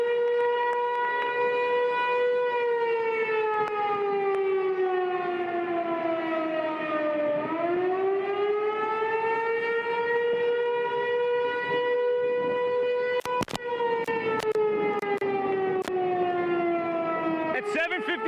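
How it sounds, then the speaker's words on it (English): A tornado siren wails continuously and loudly, its pitch slowly falling and rising, with faint background noise beneath. "suddenly this tornado siren just started going off"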